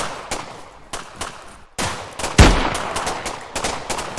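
Enemy gunfire in a video game, a string of sharp shots spaced irregularly, with one heavier booming shot near the middle and echoing tails between.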